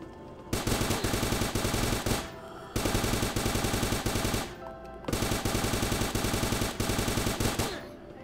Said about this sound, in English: Plus it's a friggin' alien's pulse rifle.